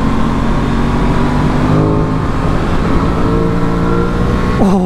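An Aprilia Tuono 660 motorcycle is ridden hard on twisty B-roads, its engine droning loudly and steadily with shifting pitch, plus wind rush and a rising rev near the end.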